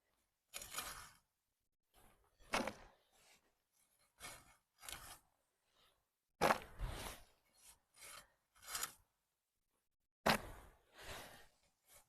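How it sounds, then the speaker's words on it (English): Top layer of a weedy garden path being scraped away in a series of separate rasping strokes, each a short gritty scrape with quiet gaps in between, close by and with no talking. "The idea is to scrape the top layer off that does have some weed growth"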